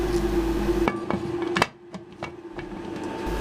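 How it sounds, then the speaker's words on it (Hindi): A pressure cooker lid being closed over mutton karahi, a few sharp metallic clacks and knocks with short pauses, close and fairly loud over a background hum that cuts out midway. "कुकर को बंद कर देंगे"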